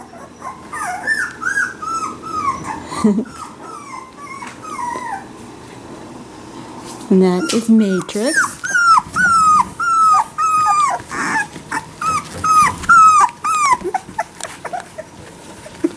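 A three-week-old Blue Merle puppy whimpers and whines in a string of high, rising cries, quieter at first and then louder and more insistent, while a person speaks briefly nearby.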